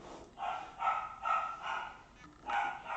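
A pet dog barking indoors, four or five sharp, evenly spaced barks close to the microphone, with brief quiet gaps between them.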